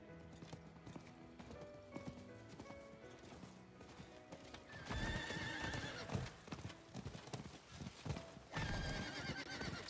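Horse hooves clip-clopping with neighs and whinnies from a mount in the video game Diablo 4, steady trotting under game music that grows louder and busier partway through.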